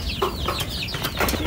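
Chicken clucking nearby, a few quick chirpy clucks and squawks in rapid succession over a low background rumble, with no talk.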